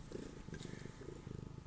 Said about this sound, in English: She's purring. She's so cute.